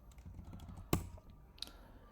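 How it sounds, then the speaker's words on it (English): Keys tapped on a computer keyboard to enter a command, a few soft clicks leading to one sharp, louder keystroke and a fainter tap after, close up and without talk. "Just simply by typing this command."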